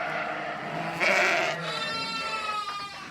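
Ile-de-France ewes and lambs bleat close by: a loud, wavering sheep call rises and holds for about a second over steady outdoor background noise.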